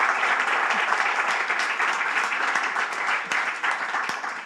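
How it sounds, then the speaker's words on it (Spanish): An audience gives a welcoming round of applause at a book event, a steady wash of many hands clapping, fairly close and sustained throughout without talk. "Ahí iría el aplauso de bienvenida."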